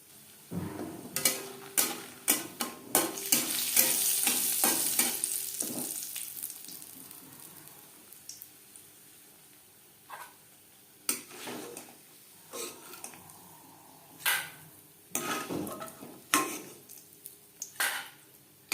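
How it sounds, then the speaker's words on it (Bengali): Lentil dumplings (bori) fry in hot refined oil, giving a dense sizzle early on that later thins into scattered crackles and sharp clinks of a utensil against the pan. "বড়ি লালচে করে ভেজে নেওয়ার পর একটা পাত্রে উঠিয়ে নেব"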